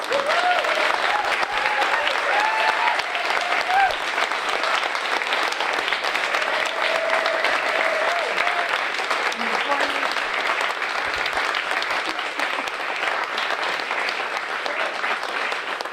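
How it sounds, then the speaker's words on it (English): Sustained audience applause filling an evening conversation event about women in the food industry, steady dense clapping at close range, a few voices calling out underneath. "let's give them a round of applause"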